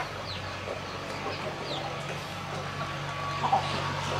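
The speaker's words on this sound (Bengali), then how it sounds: "এখানে আপনার 200 পিস মুরগি আছে, আর মোরগ আছে এখানে বেশি মোরগ।" Chickens and roosters of the Fayoumi and Australorp breeds, about two hundred hens in a Bangladeshi poultry farm, cluck and crow softly in the background, with a steady low hum beneath the scattered calls.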